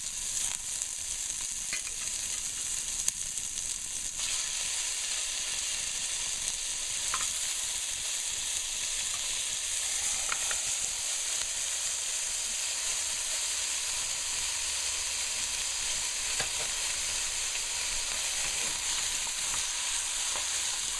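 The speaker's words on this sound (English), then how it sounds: "And let's fry a little, then I add the meat in." Meat sizzles and fries in a pan while being stirred for Multani soup, a continuous steady hiss with occasional soft scraping of the stirring, no voices.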